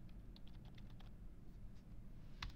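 A computer keyboard gives a quiet run of scattered key taps during spreadsheet work, followed by a pause and one sharper, louder press near the end, like the enter key.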